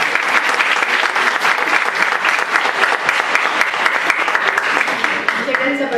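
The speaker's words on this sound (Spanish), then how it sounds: "un aplauso muy fuerte para las mujeres hoy y todos los días" A university audience applauds at a Women's Day commemoration, with steady, loud, sustained clapping from many hands and no break throughout.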